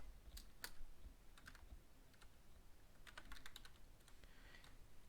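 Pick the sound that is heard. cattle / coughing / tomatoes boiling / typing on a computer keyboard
typing on a computer keyboard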